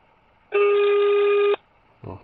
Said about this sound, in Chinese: 我现在给打电话啊，咱们现场给打电话啊